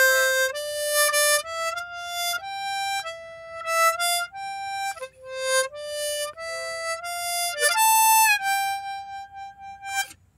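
A harmonica plays a melody in C, sustained bright reedy notes stepping up and down alone, loud and close with small gaps between phrases.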